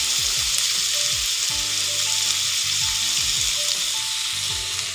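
Large chopped onions frying in a little oil in a wok for duck curry, a dense, loud hiss with occasional soft spatula knocks and scrapes.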